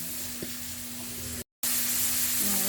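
Pork and rice noodles stir-frying in a hot pan give a steady, close sizzle with a faint hum underneath; the sound drops out for a moment and then comes back at full strength.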